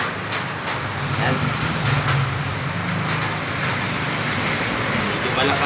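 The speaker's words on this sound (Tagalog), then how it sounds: "Medyo malakas ang ulan dito mga idol." Heavy rain pours steadily outdoors as a dense, even hiss, loud and close, with a faint low rumble underneath and no break across the whole stretch.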